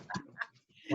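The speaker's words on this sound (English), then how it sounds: "He's been in here with me the whole time, just being very quiet, but now I decided to go whine." A dog whines softly indoors in a quiet room, a few short high whimpers close by and faint, with no talk over them.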